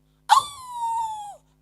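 A man at an Isra Mi'raj lecture imitates a dog with his voice, giving one loud call that starts sharply and then stretches into a long, steady, howling whine before cutting off.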